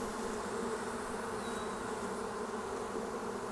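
Honeybees buzzing steadily at close range while a fall beehive inspection is under way, a dense and continuous hum with no voices over it.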